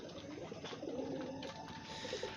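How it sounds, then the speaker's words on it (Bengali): Domestic pigeons cooing near a coop at dusk, soft rolling coos repeating under a steady background hiss. "এখনও কবুতর আসার জন্য লাফাচ্ছে।"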